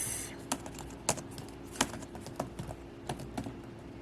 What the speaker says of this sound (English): We'll just double tap it and start typing here.